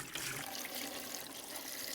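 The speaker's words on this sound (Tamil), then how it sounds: "அதை திறந்துட்டு அதில் நம்ம தண்ணியை ஊற்றிக்க வேண்டியதான்" Water pours steadily into the tank of a Voltas air cooler during restoration and repair, a continuous splashing gush at moderate level for about two seconds with no voices.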